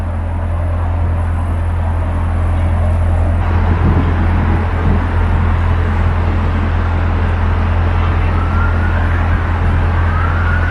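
Steady loud roar of cars driving under a London bridge on the Paddington Arm canal, heard from a narrowboat, a constant rumbling wash of traffic noise with a siren-like whine rising faintly near the end.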